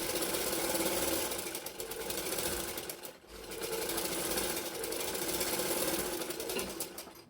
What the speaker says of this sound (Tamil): அந்த கிளாத்துக்கு மேலே கரெக்டாக அந்த ஓரத்துலேயே ஒரு தையல் போட்டுக்கோங்க